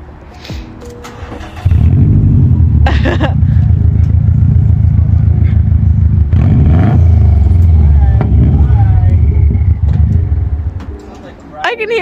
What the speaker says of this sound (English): we're gonna start this car with no exhaust. It's gonna be super loud.